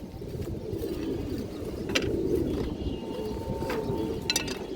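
Pigeons at a Bengali pigeon seller's, soft low cooing that keeps going under a steady background murmur, with a few sharp brief clicks or knocks.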